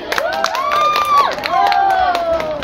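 An audience at a school children's preaching contest for the Prophet's birthday claps and cheers, with scattered hand claps under loud, rising shouts and whoops from young voices.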